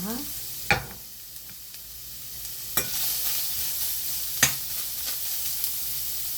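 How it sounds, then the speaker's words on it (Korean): Carrots are stir-fried in a hot frying pan, with a soft continuous sizzle and a few distinct scraping strokes of the spatula spaced a couple of seconds apart. "먼저 잘 구워진 프라이팬에 당근을 먼저 볶아주도록 하겠습니다"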